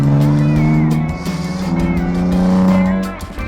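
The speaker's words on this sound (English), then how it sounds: "I must admit there's slight growl to this engine." A 2026 Dodge Charger Sixpack's engine gives off a steady, loud low growl that holds for several seconds with a slight rise in pitch, then eases off toward the end.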